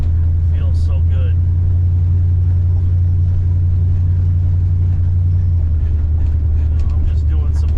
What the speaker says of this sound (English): I'm just doing some leisurely driving here.